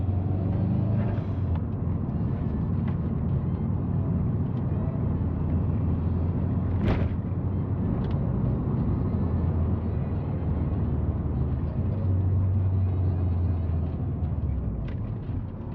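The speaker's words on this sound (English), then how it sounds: "Exhaust sounds pretty good for having all the catalytic converters, minus the up pipe" Subaru engine running through an exhaust with all its catalytic converters and no up pipe, giving a steady low rumble throughout with a brief sharp knock partway, with no talk.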